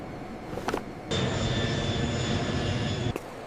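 Airplanes at an airport: after a short quieter stretch, a loud steady jet-engine roar rises abruptly, holds for about two seconds with a high whine, then cuts back down, no talk.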